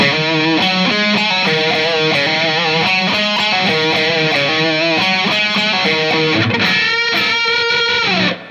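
A distorted electric guitar plays a riff on the 5th and 4th strings, loud and steady with chugging notes, ending in a brief flurry of higher notes.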